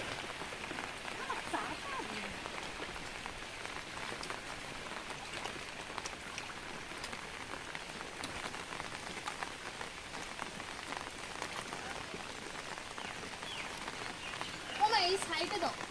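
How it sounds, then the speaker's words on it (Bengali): Heavy rain pouring steadily onto a pond and surroundings, a dense continuous hiss of drops heard alone throughout. "কি বৃষ্টি দেখো না, কি বৃষ্টি হচ্ছে।"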